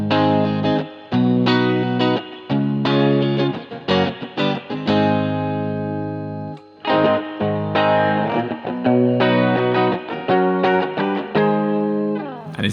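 Electric guitar played through a Fender Vaporizer amp with reverb, heard alone: a run of strummed chords and picked notes, some ringing out long, others cut short in a choppy rhythm.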